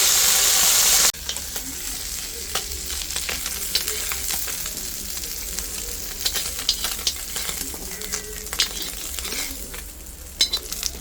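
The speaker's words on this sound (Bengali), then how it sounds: "আলু, বেগুন, ডাটা, পেঁপে দিয়ে ভেজে রাখি" Potato, eggplant, papaya and vegetable stems frying in oil produce a steady close sizzle with frequent crackles, pops and light clinks of a stirring utensil, after a brief louder burst at the start.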